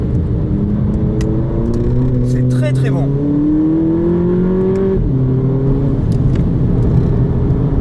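A 2018 Volkswagen Polo GTI's 2-litre, 200-horsepower engine revs up close, pitch climbing steadily as it accelerates, then drops and rises again while someone speaks briefly over it.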